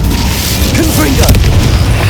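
A Confringo explosive spell goes off in Hogwarts Legacy on Xbox Series S: a deep, loud magical boom that rolls on through the whole moment, with a shouted voice over it.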